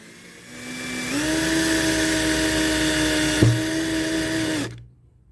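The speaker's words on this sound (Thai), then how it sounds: "แล้วก็ใช้สว่านเจาะนะครับ" A power drill bores holes in a DIY bare-frame computer case built from a camera tripod, whining up to a steady high hum for about four seconds with a brief knock midway before cutting off.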